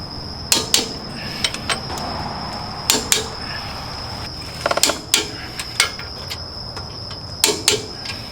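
A torque wrench tightens axle carrier bolts to 80 foot-pounds on a Dana 60 axle of a Ford F250 during an Eaton E-locker install, giving sharp, close metallic clicks in small clusters, spaced irregularly over a faint steady hum.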